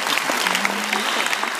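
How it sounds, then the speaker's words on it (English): Audience in a museum talk setting applauding for Laura Graham, a steady, fairly close wash of many hands clapping, even in level throughout, with a faint voice murmuring underneath. "definitely I'm going to have a round of applause for Laura"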